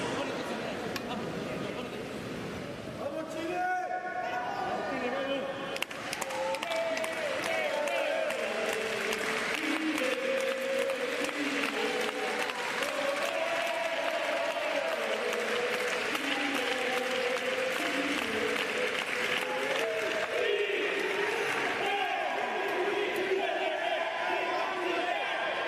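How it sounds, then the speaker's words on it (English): Crowd at a wheelchair tennis quad match between Chile and South Africa claps and cheers steadily, a dense ongoing wash of applause with scattered shouts and excited voices. "Crowd interjecting themselves with some cheers for both Chile and South Africa"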